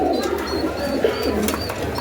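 Pigeons cooing at a pigeon market, soft repeated low coos from several birds close by, overlapping with faint chirps in a busy setting.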